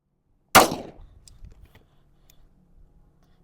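A single loud, close .357 Magnum shot from a Henry single-shot rifle, fired with H110 powder and a Hornady FP-XTP bullet, cracks sharply and then rings and fades over about two seconds, with no talk.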